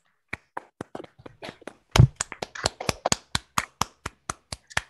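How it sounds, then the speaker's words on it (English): Scattered, uneven hand claps from a small online audience after a mathematics seminar talk, a few dozen crisp individual claps spread over several seconds, fairly close and with no talking. "We may unmute and clap."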